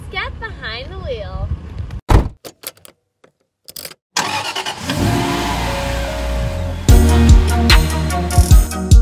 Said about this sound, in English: today we're going to be test driving a 2022 Lexus ES350